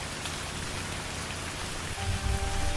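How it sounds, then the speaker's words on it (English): Heavy rain pours steadily on a surface at night near a forest hut, a dense unbroken hiss, with a faint low rumble swelling toward the end. "It was raining heavily that night."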